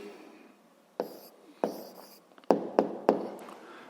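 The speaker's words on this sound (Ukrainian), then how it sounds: "Записуємо тоді відповідь." A pen writes an answer in a notebook, heard close and quiet as separate scratchy strokes and taps, with a few sharper marks clustered near the end.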